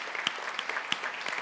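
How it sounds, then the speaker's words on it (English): Faint applause from a real estate conference audience, with a few distinct claps standing out over a soft background of scattered clapping. "let's start with a round of applause for Ben and Joe"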